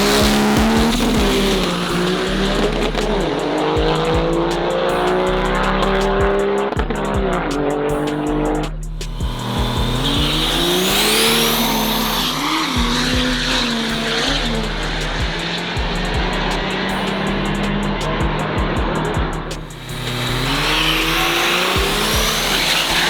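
Drag race cars roar down the strip at the King of the Street Challenge 2019, engines droning loud and sustained with squealing tires, briefly dropping off twice before surging again.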